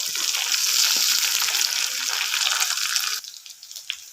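Garlic, ginger, green chilli and curry leaves frying in fish oil left in the pan after frying fish for a Kerala fish pickle, giving a loud, steady sizzle that drops off sharply near the end.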